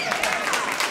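A stand-up comedy audience claps hands in a steady, dense patter that fills the whole second at close range.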